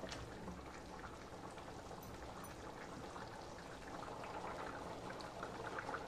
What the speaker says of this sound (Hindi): उबाल आने लगा है पानी में, और इसे हम अच्छे से उबलने देंगे